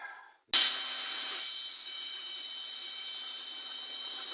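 A small drill bores through a sleeve in a carburetor intake pipe, giving a close, steady high-pitched whine that starts abruptly after a brief quiet moment and holds level.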